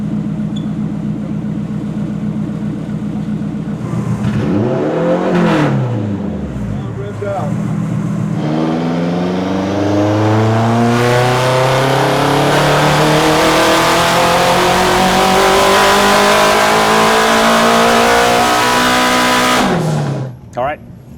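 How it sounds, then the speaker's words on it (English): A classic 90's Honda time attack race car engine on a dyno climbs from idle through a long, loud, rising rev to a high-pitched scream, then cuts off sharply, close and dominant throughout. "let's see what we make on this Dyno pack"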